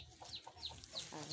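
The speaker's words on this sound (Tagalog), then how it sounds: "Yung nag-aaway na yung mga manok" Chickens clucking in short, agitated bursts, as if squabbling among themselves, in an outdoor farm setting while pole beans are being picked; several calls spread over a second or so at moderate distance.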